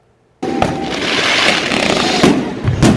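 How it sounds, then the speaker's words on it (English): Fireworks burst loudly after a brief silence, a dense crackling barrage with sharp pops near the middle and end, close and continuous for a few seconds. "Fireworks shows may be fizzling out all over the Bay Area."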